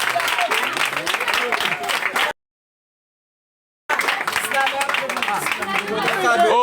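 A live comedy audience claps loudly in two sustained bursts separated by a short silent gap, the dense crackle of many hands mixed with scattered voices.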